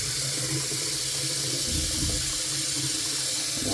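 Water runs steadily from a shower served by a Navien water heater with a NaviCirc recirculation valve, a continuous broadband hiss of spray filling the whole span, loud and close with no voices.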